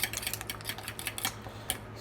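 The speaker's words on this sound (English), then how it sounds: "I'll scramble the egg by itself" Egg whisked by itself in a bowl for banana egg pancakes, a quick run of light clinking utensil taps against the bowl, fairly close and steady with no talking.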